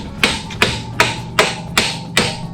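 Brass hammer tapping a wheel axle on a 1990 Harley-Davidson Sportster 883, six sharp metallic knocks at an even, unhurried pace, loud and close with no talk.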